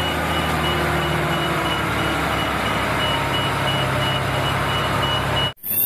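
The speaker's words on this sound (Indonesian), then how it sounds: "Wah, truk pasir lagi teman-teman." A sand truck backs up with a loud, steady reversing beeper repeating over a rumbling engine close by, until the sound cuts off abruptly at the end.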